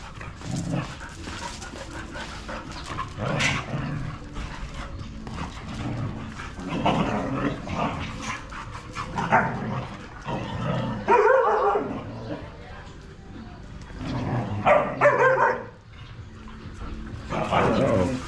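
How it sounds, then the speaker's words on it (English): Several dogs play roughly together outdoors on a walk in the Philippines, letting out repeated barks, yips and whimpers amid scuffling and panting, with steady ambient noise throughout. "Dog pile on Heidi. Heidi breaks free"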